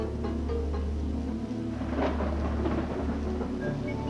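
Thunder rumbles in a thunderstorm sound effect from a 1988 Quebec Provigo TV advertisement, a low rolling roar over steady background noise, swelling midway.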